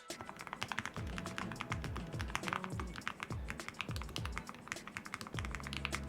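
Steady, brisk typing on an IQUNIX Magi75 low-profile mechanical keyboard: dense, even clacks with uniform keystrokes, close and clear, with no voices.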